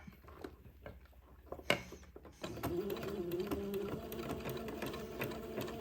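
A sewing machine zigzag-stitches along a sleeve seam on a baby gown, starting after a few faint clicks and then running in a steady, fast mechanical whir, fairly quiet and close.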